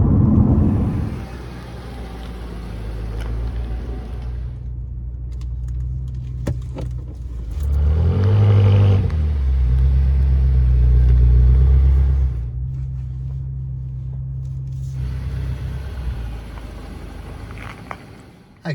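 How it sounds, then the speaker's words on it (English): Big tyres on a four-door sports car produce steady road noise while driving, a low continuous rumble from inside the cabin that swells and eases as the car moves, with no talk. "With these sort of cars, you always get road noise."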